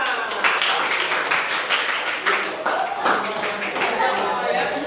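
A classroom of students claps for group 1 in a sustained burst of quick, overlapping hand claps, with voices talking over the noise.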